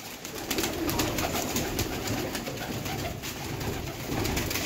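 Pigeons coo continuously close by, layered low calls over a busy outdoor background with chirps from other birds.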